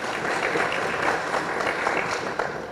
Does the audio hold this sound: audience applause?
yes